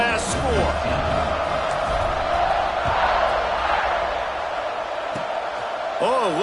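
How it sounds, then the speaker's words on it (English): American football stadium crowd buzzing after a touchdown and extra point, a broad steady roar of many voices with scattered shouts, heard under a play-by-play commentator's talk. "this crowd is buzzing after that last score"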